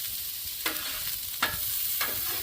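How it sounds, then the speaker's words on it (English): Fried rice ingredients sauteing in a pan, with a steady soft sizzle and three sharp scrape-like stirring strokes spaced about a second apart, no voices. "So we're going to saute this, get this process started."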